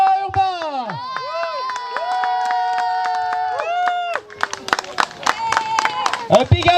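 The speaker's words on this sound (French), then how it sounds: "Je pense qu'on peut applaudir the new Canadian champion 10 km sponge race" Crowd at a 10 km points skating race cheering and clapping for the Canadian champion, with bright whistles, shouts and scattered claps growing busier toward the end, mixed with a voice over an announcement system.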